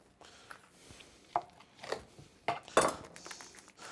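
A knife chops thick bacon bits on a board, making several irregular, close, fairly quiet cuts with no talking.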